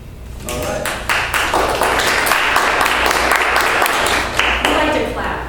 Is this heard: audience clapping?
yes